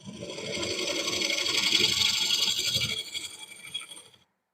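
A gouge cutting a cypress wood bowl on a lathe makes a continuous, close, hissing scrape that builds gradually, holds for about three seconds and then fades out as the cut ends, with no talking.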